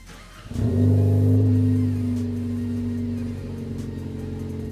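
A 2013-2018 Ford Focus ST with a Ford Performance stainless steel cat-back exhaust starts up and settles into a deep, steady rumbling idle close by.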